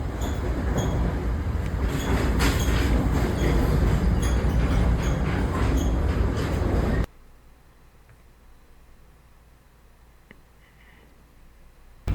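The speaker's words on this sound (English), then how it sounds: "I'm just gonna be quiet for the rest of this train ride." Train ride inside the Roblox video game: a loud, steady rumble of a moving train carriage that cuts off abruptly midway into a quiet hum.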